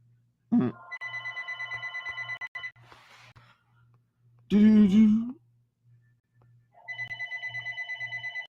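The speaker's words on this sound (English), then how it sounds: "here we go again with the phone" A telephone rings in repeated electronic bursts with a steady pulsing pattern. One burst starts the clip, another comes near the end, and a person speaks briefly between them.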